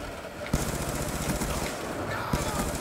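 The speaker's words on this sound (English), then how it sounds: "Oh yeah, I'm wrecking it with this gun." Sustained automatic gunfire from a weapon in Black Ops 2, a dense continuous rattle of rapid shots with a couple of sharper bursts, loud and close throughout the game action.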